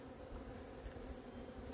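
Honeybees buzz faintly around hive frames in an apiary, a soft continuous hum throughout.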